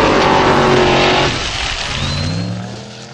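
Icelandic formula offroad buggy at Stapafell, engine roaring loud and close as it drives the course, then easing to a lower, steadier drone with a brief rising whine, no voices.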